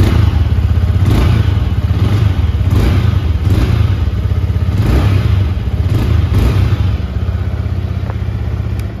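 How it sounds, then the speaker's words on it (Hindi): A Yamaha R15 V4 sport motorcycle engine idles with a deep, steady rumble, punctuated by repeated sharp throttle blips roughly every second or so, loud and close. "तो कुछ इस तरीके का स्पोर्टी एग्जॉस्ट नोट आपको इस बाइक का सुनने को मिल जाता है।"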